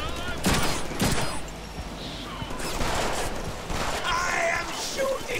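Submachine gun fire in the Deadpool video game, with several bursts of rapid shots in the first half and more bursts later, set against a busy, noisy game mix.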